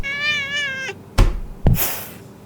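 A cat gives a long, clear meow with a steady rising-falling tone, followed by two sharp knocking thuds and a brief hiss, close and fairly loud with no talk.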